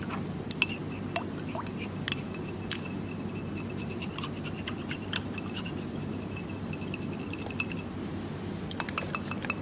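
A rod stirring a copper compound solution in glassware during a chemistry experiment, with scattered light glass clinks and taps over a steady low hum.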